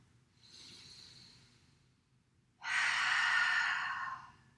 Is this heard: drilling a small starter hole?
no